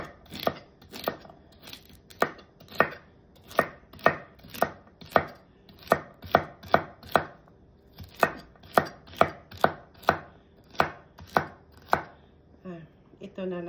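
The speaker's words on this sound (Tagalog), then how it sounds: "and then celery. Hatiin natin yan. Ganyan lang yung hiwa niya." Knife cutting celery for cucumber salad: an even run of crisp, close chops on a board, about two per second, with a short scraping rustle at the end and no talk.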